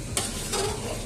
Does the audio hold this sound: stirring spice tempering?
yes